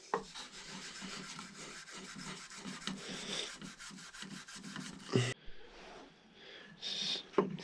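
Steel wool rubbing the finish off a handmade powder horn, a dry scratchy scrubbing in quick repeated strokes, close and moderately loud, ending with a few softer scrapes.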